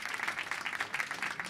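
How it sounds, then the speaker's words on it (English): An audience at a Robot Overlords interview event applauds the film's writer and director, a dense, steady burst of clapping that fills the short moment. "Give them a round of applause, everybody."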